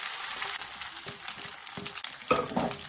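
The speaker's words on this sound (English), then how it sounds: "I carefully transfer the freshly prepared noodles to fry in the pan to sizzle." Freshly prepared noodles fry in beef fat in a skillet over medium heat, giving a steady close sizzle with bursts of crackle and a few stirring scrapes.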